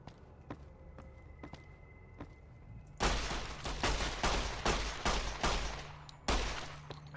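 9mm gunfire in Fallout New Vegas starts after a quiet stretch of faint clicks, then erupts as a loud, close volley of sharp, rapid shots.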